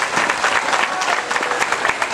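Audience applause at a cabaret performance, dense, loud, steady clapping from a crowd throughout the short stretch.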